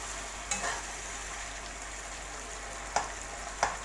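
Black pepper beef and potatoes sizzle steadily in a pan, with a few sharp scrapes and clinks of a spoon stirring at intervals, close and clear with no talking.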